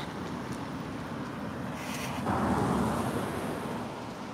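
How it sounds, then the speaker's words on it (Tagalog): Roadside traffic noise heard while walking a dog, a continuous broadband roar of passing vehicles that swells louder midway as one passes close, with wind buffeting the microphone. "malakas ng mga sasakyan dito guys"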